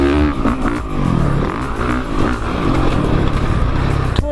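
A 2017 Honda CRF450R motocross bike with a revised engine revs hard and close, its loud, raspy note rising and falling continuously with mechanical clatter.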